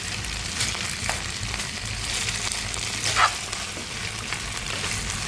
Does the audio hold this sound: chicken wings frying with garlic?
yes